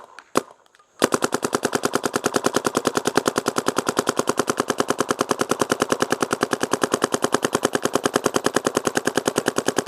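A Shocker RSX paintball marker on PSP firing mode lets off a long, very fast burst of shots in an even machine-gun rhythm, loud and close, after one single shot at the start.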